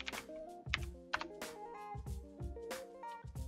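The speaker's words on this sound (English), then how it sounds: "I changed mine, so I will go ahead and type in my password." A computer keyboard clicks as a password is typed to log into a Raspberry Pi, with quick, close, irregular keystrokes at a low level over a faint tonal hum.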